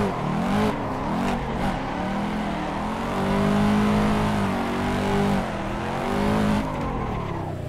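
A Mazda RX-7 drifting in the Assetto Corsa racing game gives a loud, close rotary engine note that rises and falls through repeated revs, with tyre noise woven through the surges.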